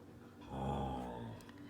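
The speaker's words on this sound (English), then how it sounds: "You can hear Mojo in the background" A dog growls and whimpers at low level somewhere in the background of an indoor room, a soft, brief rumbling whine that swells midway and then fades.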